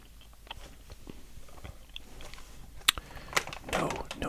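Soft, wet chewing and smacking close to the mic, with a few sharper clicks and crackles toward the end, otherwise quiet.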